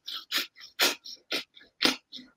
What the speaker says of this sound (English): We're going to do 50 breaths through the nose,